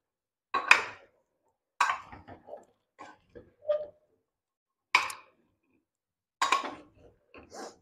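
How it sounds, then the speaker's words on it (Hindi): A spoon scrapes and knocks against a pressure cooker pan in a handful of separate strokes, stirring tempered vegetables including cauliflower stalks, with quiet gaps between them. "सब्जी छौंक दी है, इसे मिक्स करते हैं"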